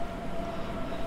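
A regional train pulls away in a train simulator game on the Munich–Augsburg line, a steady low rolling rumble with a faint tonal hum, continuous and moderately loud with no voices.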